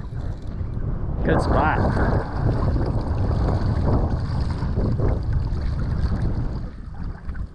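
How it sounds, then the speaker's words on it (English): Hard wind on a cold morning in the 40s, out on the water while snagging paddlefish from a boat in Oklahoma, a steady loud roar buffeting the microphone throughout, with a brief spoken remark over it. "It's in the 40s and the wind is blowing hard"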